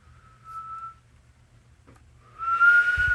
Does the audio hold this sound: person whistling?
yes